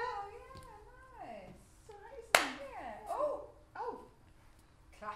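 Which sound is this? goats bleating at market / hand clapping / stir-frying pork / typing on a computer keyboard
hand clapping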